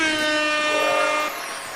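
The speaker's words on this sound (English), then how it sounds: "Where the air horns at?" A loud, sustained air horn blast plays as a sound effect, a single harmonic-rich tone that holds for over a second before cutting down, with no talk over it.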